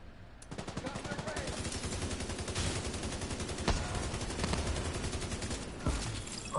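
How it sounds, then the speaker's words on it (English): Continuous automatic gunfire in the shooter Division 2, a dense rapid stream of shots running nearly the whole time, with a few louder individual reports standing out. "Firing on targets"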